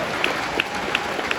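A crowd applauds at a Western music show at a ranch, the clapping a dense, steady wash at moderate level, with a few louder claps and whoops standing out above the mass of hands.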